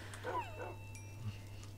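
Pet wolves in Minecraft letting out a couple of short yips and whimpers close by, over a steady low game hum.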